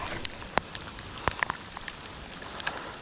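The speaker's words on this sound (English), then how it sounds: "Literally fishing in the rain." Rain falling during a fishing outing, a soft steady patter with scattered sharper drops striking nearby surfaces, fairly quiet and without talk.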